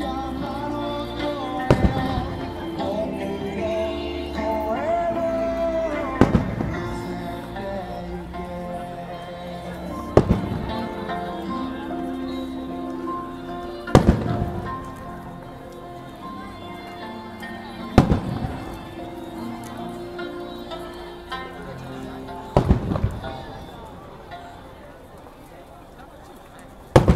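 Fireworks burst at the 70th Nagoya port festival in 2016, sharp booms landing about every four seconds over music, while an announcer talks throughout.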